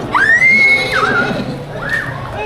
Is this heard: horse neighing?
yes